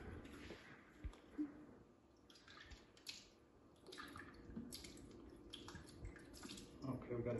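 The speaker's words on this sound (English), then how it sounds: "So we'll fill up this little cup here." Essentia alkaline bottled water pours into a small cup, a soft uneven gurgling and splashing trickle that runs with short pauses, close by and fairly quiet, with some faint background sound.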